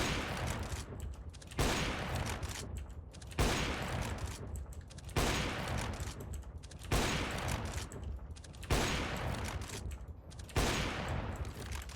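Repeated heavy gunfire bursts in the video game CS:GO, loud and close, coming in a steady rhythm of roughly every one and a half seconds across the stretch, each burst sharp at onset and trailing into sustained rattling noise, with no talk.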